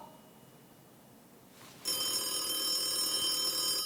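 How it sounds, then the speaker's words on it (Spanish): A telephone rings, its bell tone starting abruptly partway through and continuing steadily and loudly to the end after a quiet stretch of room noise. "Está sonando el teléfono, ¿no?"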